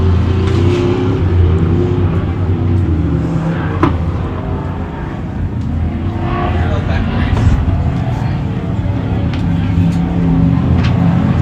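Off-road Comp and Pro race trucks roar around a high desert dirt track in Powell, Wyoming, with a steady, loud engine drone and surging revs while a commentator talks over it.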